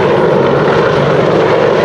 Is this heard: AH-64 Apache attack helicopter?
yes